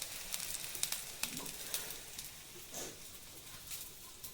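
Colocasia leaf rolls (alu vadi) fry in hot oil in a home kitchen in Konkan, giving a steady soft sizzle with small pops and crackles, faint and close, no voices.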